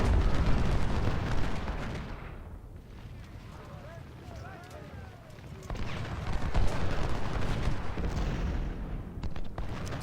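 Musket volleys and artillery fire from the Civil War strategy game Ultimate General: Civil War, a dense continuous rumble of battle gunfire with a louder swell near the end.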